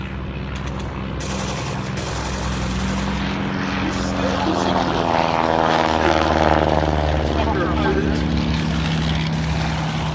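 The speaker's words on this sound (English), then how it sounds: "Up ahead of us the BE-2C lumbering through the sky." A BE-2c biplane's propeller engine drones overhead during an air festival at Duxford, a steady loud hum that swells in the middle and holds, with some talk underneath.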